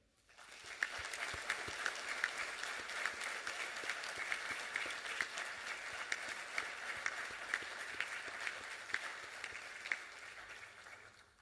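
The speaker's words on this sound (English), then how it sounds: "One more round of applause for Deanna." A pageant audience at a 2021 Golden Horseshoe Day event applauds a contestant with steady, dense clapping that holds for about eleven seconds at a moderate distance, with a few sharper individual claps standing out.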